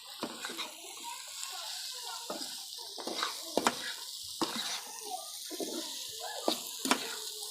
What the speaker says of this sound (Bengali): এভাবে নাড়তেই থাকতে হবে যত সময় ভাজিটা না হবে।